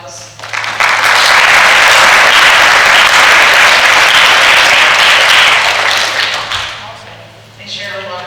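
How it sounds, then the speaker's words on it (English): A large audience applauds loudly and steadily at a Voices for Justice event after a presentation, the clapping swelling fast, holding for several seconds, then fading before a voice begins to speak at the end. "A big round of applause."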